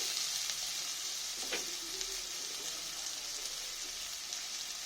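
Onion, carrot, tomato and green chili fry together in a pan, a steady hissing sizzle with a couple of soft spatula scrapes, close and continuous with no voices.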